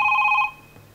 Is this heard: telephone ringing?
yes